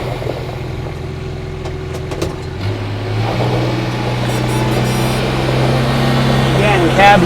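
A Kubota RTV-X1100C diesel UTV spins its tires out of full drive, the engine droning steadily and rising in pitch as it revs, with a voice talking over the running motor.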